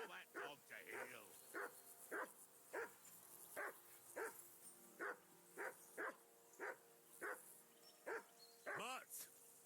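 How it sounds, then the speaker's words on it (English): Dog barking in the medieval role-playing game Kingdom Come Deliverance 2: a steady series of about fourteen sharp, evenly spaced barks close by, ending in a higher whine-like yelp. "Henry, call that dog to heel."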